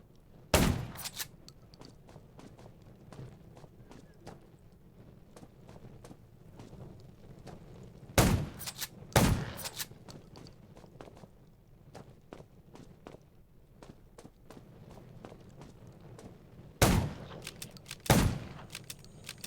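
Sharp, loud gunshots in the survival video game Undawn, in small clusters, two or three at a time, separated by several seconds of quiet ambient rumble.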